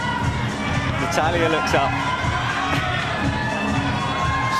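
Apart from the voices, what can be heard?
crowd cheering at IFSC climbing World Cup final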